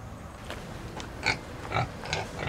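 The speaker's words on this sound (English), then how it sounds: "You're sure snorting like a crazy pig." Pigs snort and grunt in short bursts, four or five rough noisy snuffles spaced about half a second apart over a low background rumble.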